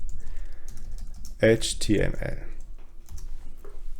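Mouse clicks and quick keyboard typing while creating a new index.html file on a computer, a short close-up cluster of clicks and keystrokes with quieter tapping before and after.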